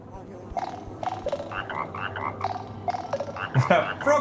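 Frog phone croaking in the video game Dream BBQ, a series of close, repeated throaty croaks that quicken and grow louder toward the end over a low background hum.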